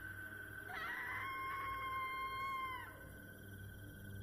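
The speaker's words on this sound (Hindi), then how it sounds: "अचानक बाहर से भयानक चीख सुनाई दी।" A horrifying scream from outside in a horror story, a loud wavering cry that rises and falls before trailing off, heard alone over a dark, low ambient drone with no talking.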